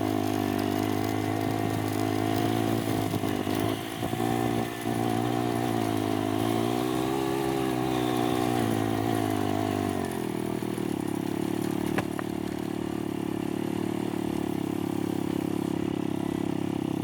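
A four-wheeler engine runs continuously nearby with a steady, throbbing idle hum. Its pitch rises and shifts partway through, and no one speaks over it.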